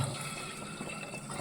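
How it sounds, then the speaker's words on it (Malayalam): A cup of water pours into a cooking pot for sambar, a soft continuous splashing and gurgling stream, fairly quiet and heard alone without talk. "വെള്ളം ഒഴിച്ചു"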